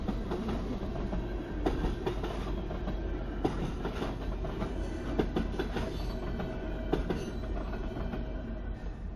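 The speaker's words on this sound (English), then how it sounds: "Hear that train go click, click, click, click?" A passing train on a CNR main line rumbles steadily, its wheels clicking rhythmically over the rail joints in a repeating clickety-clack.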